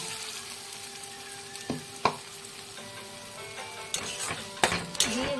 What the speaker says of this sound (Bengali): পেঁয়াজটাকে ভালো করে কষিয়ে নেব